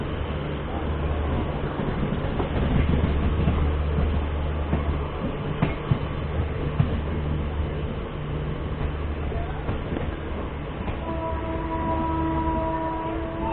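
The Dehradun–Gorakhpur Rapti Ganga Express pulls out of Dehradun railway station, heard from inside a general coach as a steady low rumble of rolling wheels with faint clatter and occasional tonal hum.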